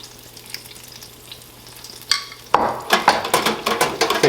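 Saltfish fritters deep frying in hot oil in a fryer, a quiet low crackle that suddenly bursts into a loud, dense sizzle with sharp popping spatters, with no voices.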